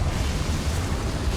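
Confringo fire spell blasting in Hogwarts Legacy, a brief dense rumbling whoosh of flame and low boom, loud and steady throughout.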